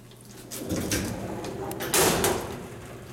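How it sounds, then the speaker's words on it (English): A vintage Otis traction elevator's inner gate at Haggar Hall, Notre Dame, slides shut with a rattling metallic clatter, then a sharper, louder clank about two seconds in, close by. "Shut the inner gate."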